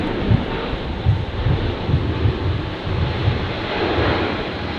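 Delta airliner on its takeoff run at Brisbane airport, a broad, steady roar of jet engines heard from a distance with wind buffeting the microphone throughout.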